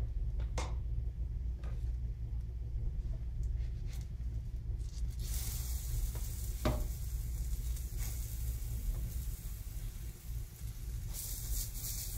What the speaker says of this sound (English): These are a little bit harder to flip, so I've got like a 2 spatula action going right now